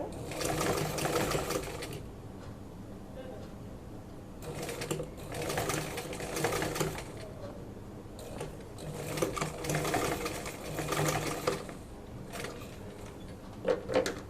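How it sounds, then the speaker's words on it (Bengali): A sewing machine stitches a half collar onto a shirt neck in several steady, whirring runs with brief pauses between them, heard close up. "সেলাই করা হয়ে গেল আরও একটা সাইড এভাবে করে সেলাই করে নিব"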